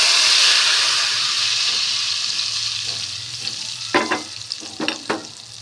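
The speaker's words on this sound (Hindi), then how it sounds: "हमारा तड़का तकरीबन रेडी होने पे है, तो मैं इसको दाल में डालती हूँ" Hot tempering oil and spices hit a pot of moong and masoor lentil dal with a loud steady sizzle and hiss, followed by a few sharp clatters and bursts of spattering toward the end.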